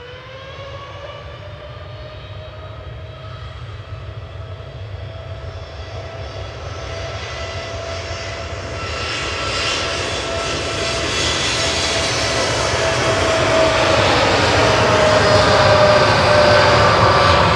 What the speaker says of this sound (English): This time it's a 787-9 G2EL with flight 2622 over to the Blairicks.